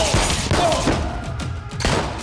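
Pistol gunfire in a film: several sharp, loud bangs crack out in quick succession against a dense, noisy action soundtrack, each shot a short percussive burst.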